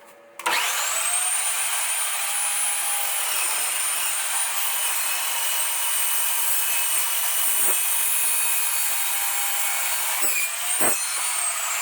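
An Evolution heavy duty dual miter saw spins up with a sharp start and then grinds through metal in one long, loud, high-pitched whine, winding down with a few scraping knocks near the end.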